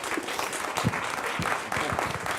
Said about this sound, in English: a round of applause for national treasure, Jamie Bartlett